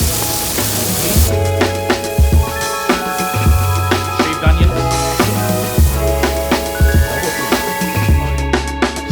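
Dry-aged koji smash burger searing hard on a hot flat-top, a loud steady sizzle with sharp scraping and pressing strikes in an irregular rhythm throughout.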